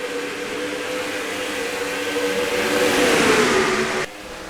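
A pack of race car engines drones loudly at the Milwaukee Mile in a racing video game, swelling as the cars sweep past before the sound drops suddenly near the end.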